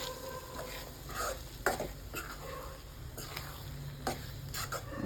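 Cauliflower egg bhurji stirred in a frying pan, with steady scraping and soft sizzling plus occasional sharp clinks of a utensil against the pan, close and unaccompanied by voices.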